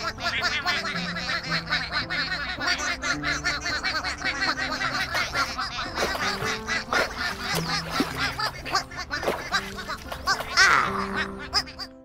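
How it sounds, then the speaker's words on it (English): Ducklings in a kids' counting app quack and honk in a busy, loud chorus. Cartoonish squeaks and giggly calls sit over a bouncy musical backing throughout. "Big Blue made sure that all 12 ducklings found the pond."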